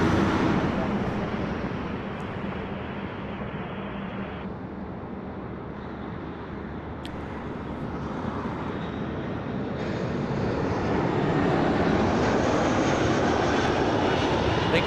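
An airliner takes off from runway 33 left at Toronto Pearson, its jet engines roaring as a broad, loud, sustained wash that swells toward the end.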